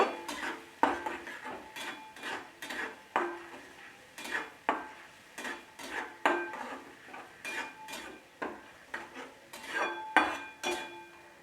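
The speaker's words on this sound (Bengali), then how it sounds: "এটা আমি 2 মিনিট ভালোভাবে আবারও কষিয়ে নেব" Cauliflower curry masala stirred in a pan, with a spatula scraping and knocking against the metal in a steady rhythm of close, distinct clinks and scrapes, about one every half second, with no talking.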